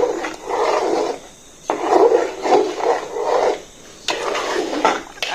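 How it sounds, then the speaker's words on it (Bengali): A thick haleem of lentils and meat is stirred in a pot on the stove, giving rough scraping strokes in repeated rhythmic passes with short pauses, close and fairly loud. "চুলায় ডালটা মাংসের সাথে অ্যাড করা হবে তখন অনবরত এটা নাড়তে থাকতে হবে"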